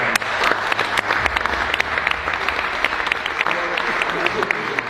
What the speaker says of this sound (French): C'est très bien, on peut les applaudir.